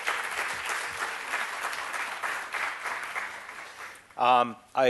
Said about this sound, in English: So that deserves a round of applause for yourselves and all the people that put this together.